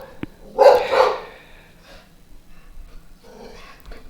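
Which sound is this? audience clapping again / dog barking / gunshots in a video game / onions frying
dog barking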